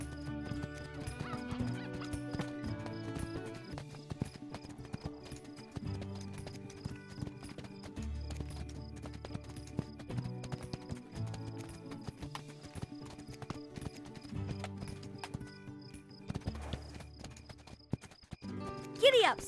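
Spirit the horse gallops in a DreamWorks horse video game, steady rapid clip-clop hoofbeats with an occasional whinny over game music, ending in a brief louder burst.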